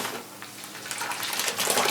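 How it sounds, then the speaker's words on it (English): Hand-dyed yarn on a zip tie dunked a few times in water, giving close sloshing and splashing bursts with dripping in between. "I'm dunking it a few times"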